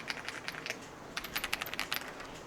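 Typing on a Rula F75 mechanical keyboard, a quick, uneven run of crisp clacks close by, pausing briefly before a denser burst of keystrokes, with no voices.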